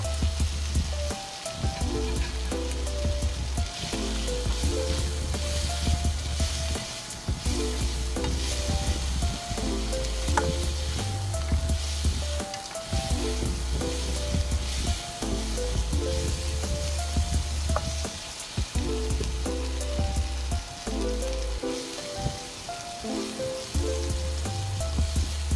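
Fried pork pieces tossed into a hot pan with shrimp paste, giving a steady, loud sizzle with stirring scrapes repeating in a regular rhythm throughout, no voices.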